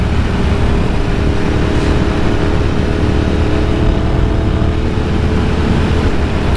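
Ducati Sport Classic 1000S motorcycle engine pulling hard under open throttle in the wrong gear, a loud, steady, close-up roar with constant rumble and no pauses.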